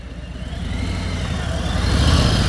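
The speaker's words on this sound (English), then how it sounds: "If you hear the engine going, your RPMs are too low." A vehicle engine labors at too-low RPM under load, a deep, rhythmic chugging rumble that grows slightly louder as it struggles near stalling.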